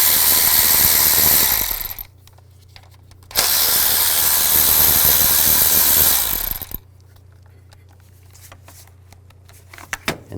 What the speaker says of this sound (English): Use a 10mm socket, take these two bolts out.